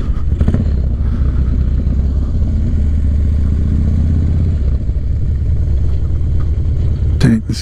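A 1985 Harley-Davidson FXR cruising, its loud, close engine holding a steady low rumble before easing off, with a sharp clatter near the end.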